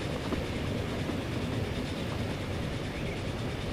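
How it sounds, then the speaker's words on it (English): Train running in the Transport Fever video game, a loud, continuous rumble of rolling wheels and rail noise with a faint clickety-clack, steady throughout and without speech. "There's a train that we just bought."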